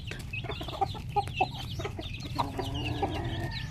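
Several Parawakan chickens cluck and murmur close by in short, scattered calls over a low, steady background rumble.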